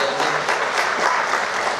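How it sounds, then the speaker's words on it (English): An audience at a film trailer launch claps for an actor in a brief, dense burst of applause, loud and even throughout. "Let's give Ranveer a big round of applause once again, ladies and gentlemen."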